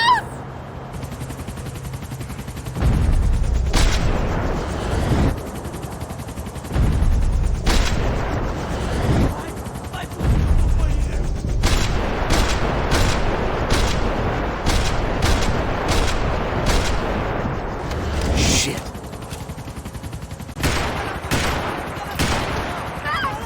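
Sustained gunfire in the Max Payne 3 video game, loud repeated shots and bursts over a continuous rumble of action, with sharp cracks scattered through the second half.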